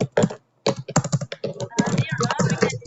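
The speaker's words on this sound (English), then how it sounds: "we can hear you typing" Rapid clicking keystrokes on a computer keyboard during an online networking call, heard close and irregular, with people talking over and between the taps.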